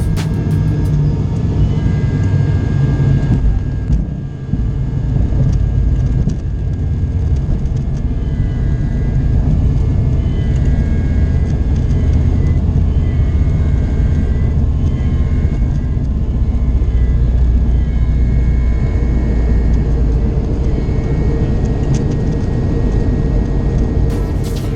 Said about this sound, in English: As always, enjoy the landing into Christchurch.